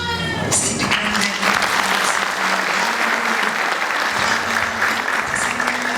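A Pentecostal church congregation in Welkom, South Africa, applauds loudly at an Easter worship service. The clapping is dense and sustained throughout, with brief high ululating cries at the start.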